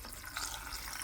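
Water pours steadily from a tap into a soup pot of vegetables and browned prime rib beef bones, a soft continuous splashing hiss at low volume with no talking.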